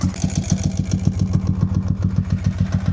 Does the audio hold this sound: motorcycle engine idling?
yes